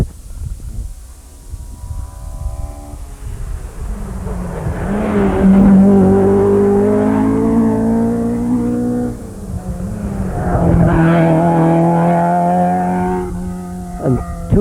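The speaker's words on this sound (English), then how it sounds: "Just gone by there in close proximity, number 32, Ray Binskin, driving Ford Escort" A Ford Escort rally car on a Cork stage roars past at close range, its engine note rising and falling through gear changes as it approaches, then a second surge of revving follows; no talk.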